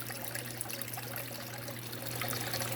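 Water trickling and splashing in an aquarium waterfall tank with guppies, a steady close burble and pour with a constant low hum underneath, no voices.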